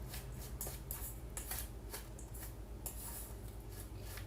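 A spoon scrapes and mashes butter against a bowl, with rough, repeated scraping strokes close by and steady, at a moderate level, and no talking.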